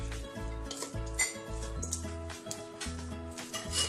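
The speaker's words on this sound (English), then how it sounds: "you will take a bit of time to stir everything because you need to mix up all the paste" Korean spicy bulgogi pork being stirred in a pan with a coated paste, giving steady scraping and clinking of utensil on metal over a light sizzle, close and continuous.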